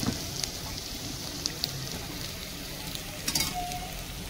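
Potato tempering sizzles in a frying pan with rice being added, a soft, continuous crackling hiss broken by occasional sharp pops and clicks, fairly quiet and close, with no talk.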